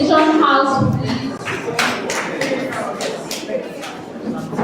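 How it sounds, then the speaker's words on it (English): Audience applause for a house team at a school inter-house science fair competition, a burst of clapping with some sharp individual claps amid general room noise and murmuring. "Another round of applause for Vision House"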